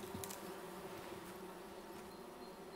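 Bees buzz steadily around a beehive in the game Among Trees, a continuous droning hum that holds at an even, fairly close level throughout with no talking.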